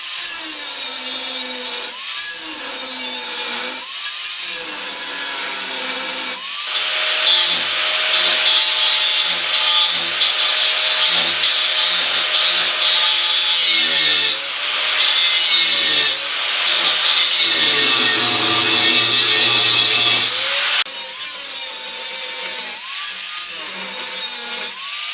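A 4.5-inch angle grinder cuts through spot welds on the sheet-metal roof of a Model A hot rod shop truck, a loud, harsh whine interrupted by brief pauses and pitch dips as the disc bites and lifts.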